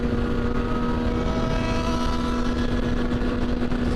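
A Honda Hornet four-cylinder motorcycle engine drones steadily and loudly with an even, unbroken tone, heard close up with no talk.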